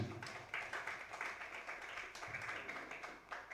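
An audience applauds the organizers of an event where Braille books are handed out. The clapping is continuous and fairly faint, with a steady texture of many hands.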